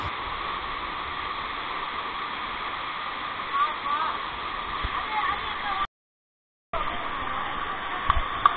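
Water pouring at Thirumoorthy falls in Tamil Nadu, a steady, loud broadband rush that runs continuously, briefly cut off near the end before resuming.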